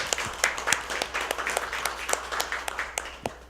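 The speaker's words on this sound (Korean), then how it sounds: "훌륭한 강연을 해주신 우리 한석수 원장님께 다시 한번 큰 박수를 보내주십시오" Applause from the audience after a lecture at a university presidents' summit, moderately distant and fairly soft, with individual claps standing out sharply over a continuous patter.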